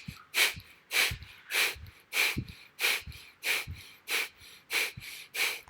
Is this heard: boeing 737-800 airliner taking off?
no